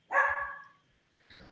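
A dog gives a sharp, close bark followed a moment later by a fainter second bark, with quiet between.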